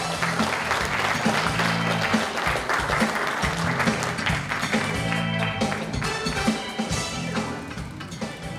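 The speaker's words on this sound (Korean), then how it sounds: "뜨거운 박수로 맞아주시기 바랍니다" Hall full of party delegates at a Democratic Party leadership joint speech rally in Jeju applauding to welcome candidate Kim Boo-kyum; dense, sustained crowd clapping fills the whole stretch, loud and continuous over a low steady background.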